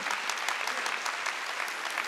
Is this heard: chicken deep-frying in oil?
no